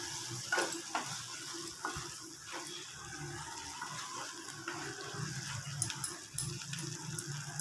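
Two goat brains fry in a pan with a constant hissing sizzle and occasional bubbling pops and spatula knocks, close by and moderately loud, no talking.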